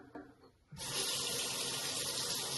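Tap water gushes steadily into a sink while a beauty product is rinsed, starting abruptly after a brief quieter moment and then running loud and continuous to the end.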